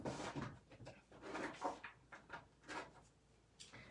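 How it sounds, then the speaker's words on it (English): A craft-room drawer is slid open and rummaged through to pull out a card base, giving several soft, close wooden knocks and scrapes in uneven bursts. "Let me grab one out of my drawer."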